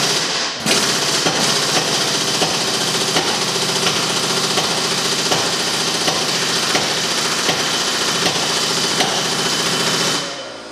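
An impact gun hammering on a seized leaf spring bolt of a GMC truck, a loud, close, continuous rattling burst lasting about ten seconds with a steady rapid knock, starting and stopping abruptly.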